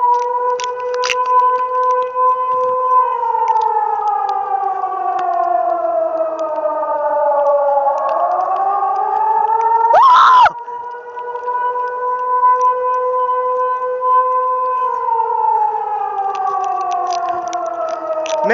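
A civil defense alarm siren sounds during a test in a Tallinn park, loud and close, its rising and falling wail sweeping in long slow cycles, with a sharp burst of handling noise partway through.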